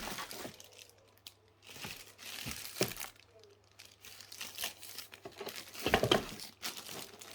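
Plastic packaging crinkles and crunches in irregular close bursts as a Philips SpeedPro Max cordless vacuum is unwrapped, quiet overall with a louder rustle near the end and no talking.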